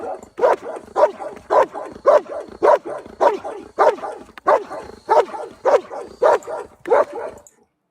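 A dog barks close and loud in a steady, evenly spaced series of about fourteen sharp barks, with its teeth clicking together on each bark, then falls quiet at the end.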